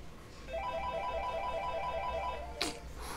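Mobile phone ringing with a steady electronic ringtone of repeating tones, fairly quiet and in the room, then cut off by a short knock or bump near the end.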